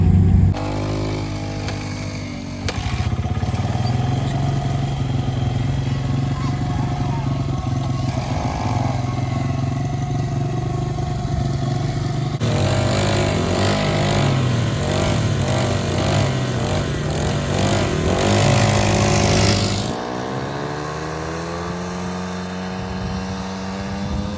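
A dirt bike engine while being ridden, with a steady buzzing drone that rises and falls in pitch as the throttle changes, close and loud, and a brief idle before it picks up again.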